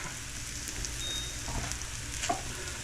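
Okra cooks in an iron skillet with a quiet, even sizzle that crackles lightly and keeps on without pause, and no one speaks.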